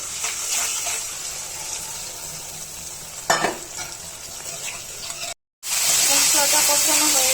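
Onions and prawns frying in hot oil while being stirred, a steady sizzle with one louder burst of stirring partway, a brief silent gap, then stronger sizzling.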